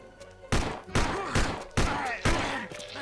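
Five sharp gunshots from a Glock in the video game Land of the Dead: Road to Fiddler's Green ring out at a steady pace, each a loud crack followed by a brief decaying tail.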